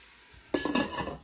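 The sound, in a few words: lid being put on the pot of pork ribs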